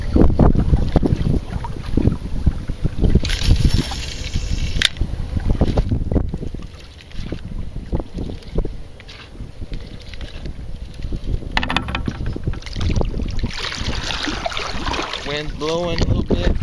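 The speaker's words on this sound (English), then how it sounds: "Wind blowing a little bit," Wind blows across open water on a kayak fishing trip for redfish in Leeville, Louisiana, a steady low rumbling buffet on the microphone that swells and eases throughout, with light splashy water and boat noise mixed in.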